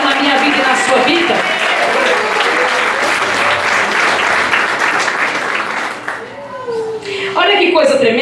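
A church congregation breaks into loud, sustained applause for about six seconds, with a voice speaking over it. The clapping then thins and a voice continues alone, then the applause swells back up.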